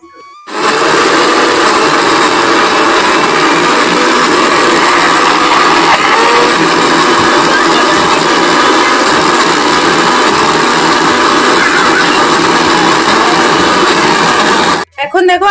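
A kitchen grinder runs loud and steady for about fourteen seconds, blending soaked chana dal and chopped banana flower into a paste, with a continuous whirring motor drone that starts abruptly and cuts off at the end.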